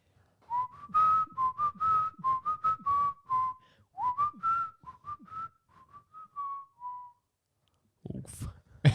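A person whistles a bouncy tune in a steady run of clear, close notes, the melody pausing briefly midway before trailing off, followed by a short burst of noise at the end.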